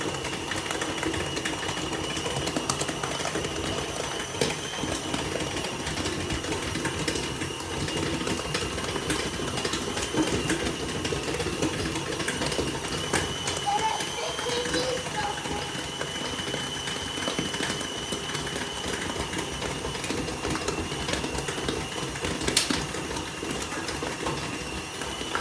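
A stand mixer kneads brioche dough, running with a continuous mechanical whir and rattle at a steady level for the whole stretch.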